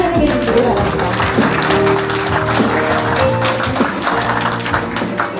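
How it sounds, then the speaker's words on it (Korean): Applause from the audience at the grand opening ceremony of the OneDay Biotech implant factory in Daegu: dense, steady clapping lasting throughout, mixed with sustained background music. "큰 박수로 환영해 주시기 바랍니다."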